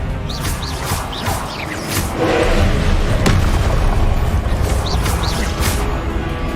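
Confringo fire-spell blasts in Hogwarts Legacy, loud booming explosions layered over continuous dense combat noise, with a sharp crack near the middle and no pause throughout.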